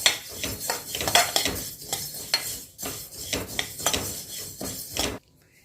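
Sesame seeds being dry-roasted for til gul ladoos in a heavy kadhai over very low gas, stirred with a metal spoon that scrapes and clinks against the pan in rapid, uneven strokes, close and clear, then it stops abruptly.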